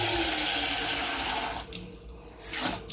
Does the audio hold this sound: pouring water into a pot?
yes